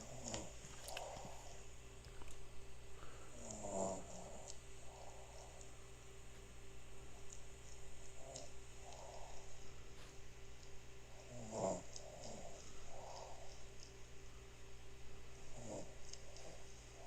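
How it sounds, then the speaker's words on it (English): A person snoring, faint and distant, with slow, rhythmic breaths repeating every few seconds over a steady low background hum. "So that was the snores of you know who."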